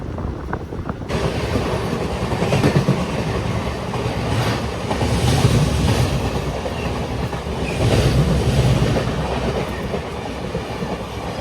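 A passenger train running on rails between Palakkad and Kollam in Kerala, heard from inside: a steady, loud rumble with a rhythmic clickety-clack of the wheels that swells and eases over several seconds. No voices.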